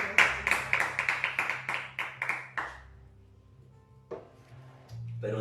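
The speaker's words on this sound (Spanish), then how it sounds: "Denle ese aplauso fuerte a Él." Church congregation giving a loud round of applause during a sermon: a handful of sharp, close hand claps in quick rhythm for about two and a half seconds, then a fading quiet before a voice begins.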